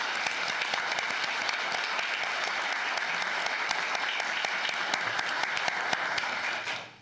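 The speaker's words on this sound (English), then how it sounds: "Let's give them a round of applause." Sustained audience applause at a county commissioners court recognition of employees, dense steady clapping filling the room for about seven seconds before fading out at the end.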